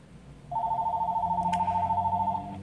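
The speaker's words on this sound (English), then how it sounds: "I got a phone call in the middle of me trying to start a game" A phone rings with an incoming call, a loud, close electronic tone pulsing in a steady rapid warble for about two seconds, with faint background noise and no speech over it.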